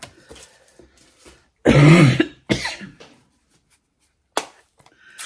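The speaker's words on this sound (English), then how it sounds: "I've still got a bit of a cough after having COVID" A few coughs and throat-clearing bursts from a lingering post-COVID cough, close and sharp, separated by quiet gaps, with a short rough cough near the end.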